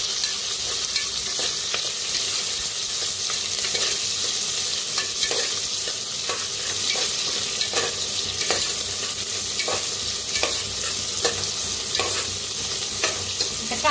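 Garlic, green chili and curry leaves frying in hot oil, a steady dense sizzle with regular spoon-scraping stirs against the pan, close and continuous with no talking.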